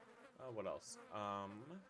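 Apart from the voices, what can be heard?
fly buzzing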